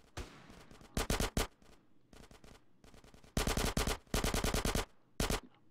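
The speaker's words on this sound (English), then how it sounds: "Give me some fucking covering fire." Gunfire in Grand Theft Auto San Andreas comes as loud, close bursts of rapid automatic shots, several separate volleys with short pauses between, and no talking.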